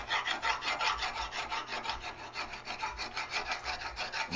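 A hand file rasps back and forth over a proud weld on a Speedking droptail kit, steady rhythmic strokes, close and fairly quiet with no talking.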